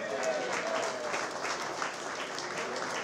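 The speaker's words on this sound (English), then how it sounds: "how about a big round of applause for Walt Smith?" An audience at the Plainville Stadium racing reunion gives Walt Smith a round of applause, a steady wash of clapping from a crowd that sounds somewhat distant and moderately quiet throughout.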